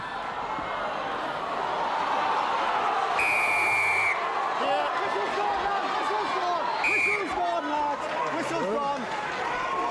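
Referee's whistle at a rugby union Premiership final between Sale Sharks and Leicester Tigers, two sharp shrill blasts about three seconds apart, cutting over a loud roaring stadium crowd with commentators talking throughout.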